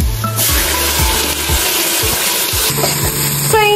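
Onions, green chillies and tomato fry in a pressure cooker with cinnamon, cardamom and bay leaf for egg biryani, a close, steady sizzle broken by repeated scraping strokes of a spoon stirring.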